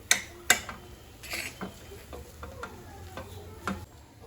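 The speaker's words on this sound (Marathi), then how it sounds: "एकदा छान मिक्स करून घेणार आहे." Fine semolina being stirred in a pan, a soft scraping and shuffling with a few sharper ticks of the spoon against the metal, close and quiet, with no voices.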